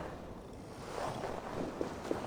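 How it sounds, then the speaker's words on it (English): Gusting wind in an Assassin's Creed Valhalla game scene by a river as a storm approaches, a steady broadband roar with a few soft knocks near the end, no voices. "Windy. Storm coming."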